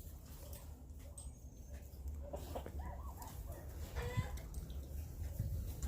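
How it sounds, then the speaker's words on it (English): A hen or rooster gives faint, scattered clucking calls outdoors on a farm, set against a low background rumble. "It is a hen or the rooster making a sound,"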